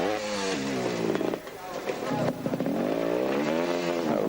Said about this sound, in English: Don't two-strokes just love being held at full throttle ceaselessly?